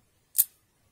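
A DOM IX Saturn lock snapping shut as it is locked back up: one short, sharp metallic click, close and clear, in an otherwise quiet room.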